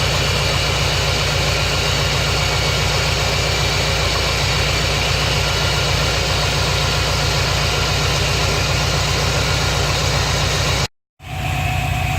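A Subaru engine idles steadily while warming up during cooling system air bleeding, a constant low drone with an even pulse, close and unchanging, cutting out briefly near the end before resuming.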